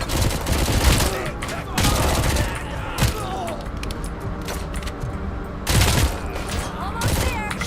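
Gunfire in RoboCop: Rogue City: loud repeated bursts of automatic fire with heavy thumps, coming in clustered waves over a constant game soundscape, with voices talking through it.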